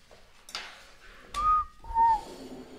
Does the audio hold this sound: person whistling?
yes